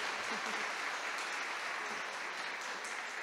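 Church audience at a parish gathering breaking into steady, dense applause that holds at a constant level from start to finish, with no talking over it.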